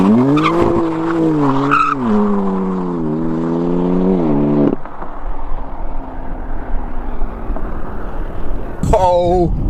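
BMW M3 drifting, its engine note rising and falling with long squealing tire screeches, followed by a stretch of rumbling tire and road noise and a short final squeal near the end.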